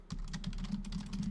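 Rapid, steady clicking of a computer keyboard being typed on, the keystrokes close and fairly quiet, with no voices.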